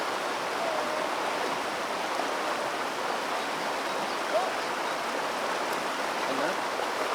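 Cold stream water flowing steadily as a continuous broadband rush, close and constant throughout, with no talk over it.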